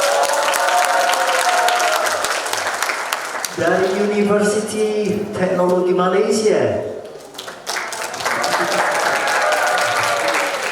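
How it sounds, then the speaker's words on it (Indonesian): Applause and cheering from an audience at a youth entrepreneurship bootcamp and festival, a loud continuous clapping wash that carries throughout while a voice speaks and sings over it through the middle. "Beri tepuk tangannya."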